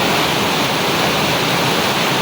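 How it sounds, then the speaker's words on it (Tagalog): Dense, roaring wash of heavy rain pouring down, a loud unbroken hiss filling the whole moment with no voices. "Grabe ulan, napakalakas."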